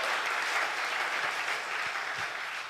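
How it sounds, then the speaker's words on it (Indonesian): Sustained applause fills a church worship service, a dense, steady wash of many hands clapping at close-to-moderate distance with no speech over it. "Beri tepuk tangan yang luar biasa."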